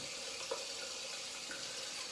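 Water runs steadily from a tap in a home soap-making setting, a soft, even broadband hiss with faint splashes, heard alone without voices.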